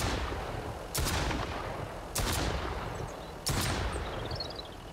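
Three loud gunshot bursts ring out from enemies in the survival video game Mist Survival, each a sharp crack with a trailing echo, spaced roughly a second apart against a low ambient background.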